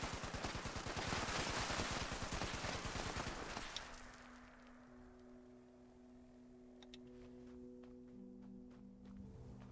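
Rapid automatic gunfire from a two-shot weapon in the video game Fallout 76, a dense, loud burst of fast repeated shots for about four seconds, then quieter game ambience with faint tones.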